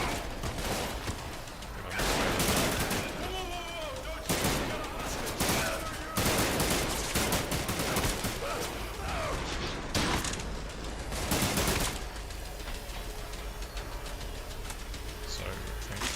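Automatic weapon fire in the video game Trepang 2, with rapid bursts of shots coming in several clusters over continuous background game sound and music, loud and close.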